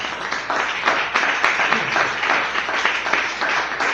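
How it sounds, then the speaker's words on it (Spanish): A church congregation claps through a morning service, a continuous, fairly loud patter of many hands lasting several seconds without a break. "Aplaude a Cristo en esta mañana"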